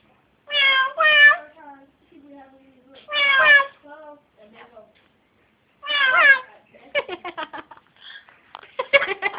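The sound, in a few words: parrot imitating cat meow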